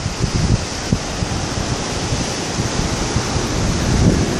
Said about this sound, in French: Plus ou moins forte houle.